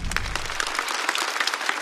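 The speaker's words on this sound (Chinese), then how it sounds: "再次掌声送给小蝶" A stand-up comedy audience claps briefly for a performer, a dense burst of hand claps filling the room, loud and continuous without speech.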